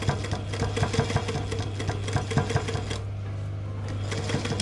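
A sewing machine runs a short reverse stitch at the end of a pocket on a fabric crayon roll, a steady mechanical chatter with a constant low motor hum, briefly easing and picking up again.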